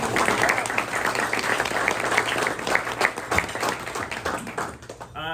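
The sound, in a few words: round of applause at a press luncheon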